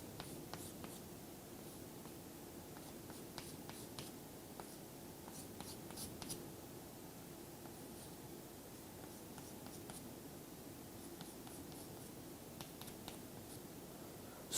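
Chalk or marker scratching on a board during a metallurgy lecture on eutectic alloys: quiet, repeated short strokes and taps in irregular bursts over a steady room hum.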